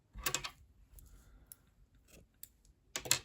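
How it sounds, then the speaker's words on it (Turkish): Scissors snip through white yarn during crochet work on a baby dress, giving a couple of quiet, crisp close-up cuts separated by soft handling clicks and a near-silent pause. "Beyaz ipliği burada kesiyorum."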